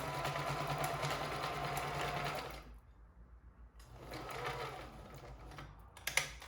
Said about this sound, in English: So you're going to start sewing.